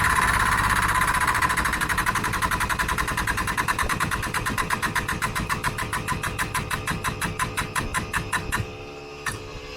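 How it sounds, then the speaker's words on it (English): A small air compressor runs close by with a loud, rapid mechanical chugging that gradually slows as pressure builds, then cuts off near the end, leaving a faint hum. "I'm gonna piss with this little compressor one more time."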